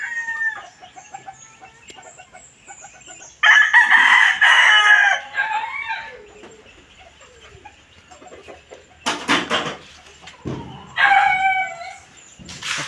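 Chickens clucking and a rooster crowing loudly in bursts at a small farm hut, with hens chattering between calls and no talk.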